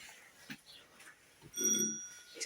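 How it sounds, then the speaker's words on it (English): A doorbell rings once with a bright, sustained metallic tone in a quiet space, followed by a short low thud. "got such a loud bell."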